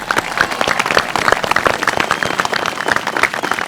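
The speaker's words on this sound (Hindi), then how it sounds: "सबसे पहले छोरियों अपने लिए जोरदार तालियां बजा दो।" A group of young women on a village reality show clapping and applauding together, a dense, continuous burst of close claps with no pauses.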